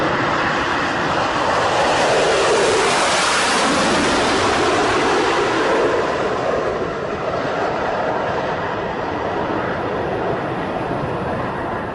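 Concorde airliner taking off from runway 31 left at New York: a loud, continuous roaring engine rumble that swells early, holds as a broad thunderous wash, then eases slightly as it recedes, with no talking.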